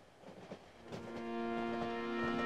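A train rides along in the horror game Cry of Fear, with a low rumble and soft clacks that build into a steady droning hum with tonal whine, fairly quiet throughout.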